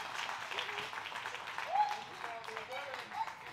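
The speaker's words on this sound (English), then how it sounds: "Crowd getting into it now." A wrestling crowd at a women's match claps and cheers in a scattered, moderately distant wave of applause, while a commentator talks over it throughout.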